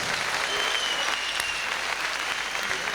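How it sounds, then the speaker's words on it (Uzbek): Audience applause at an orchestra concert, a dense even wash of many hands clapping continuously, loud and sustained throughout. "Qarsak, boshqa hech nima kerak emas. Faqatgina qarsak."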